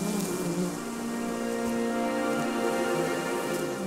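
A swarm of honeybees buzzes steadily and densely throughout, a continuous close hum with no voices.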